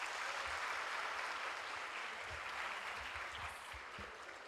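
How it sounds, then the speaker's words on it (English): An audience at a mental health seminar claps together in a full round of applause that starts strong and gradually thins toward the end, heard from within the room with no talking. "When I see you all clapping, and Ms. Yash says, do not clap"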